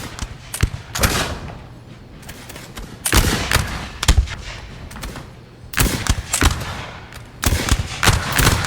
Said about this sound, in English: some good little gunfire here.